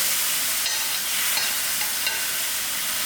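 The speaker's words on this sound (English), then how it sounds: "While the garlic and the chilies are sort of fried out, I'm going to add in my crushed tomatoes" Crushed grated tomatoes hit hot oil with frying garlic and chilies, producing a loud, steady, close sizzle and hiss that stays strong throughout without any talk.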